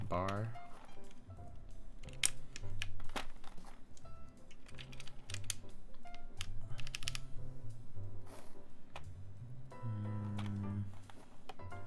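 Keys clack in a steady, dense patter on a keyboard with keycaps, running the full length with short bursts and pauses while a person talks over the typing throughout.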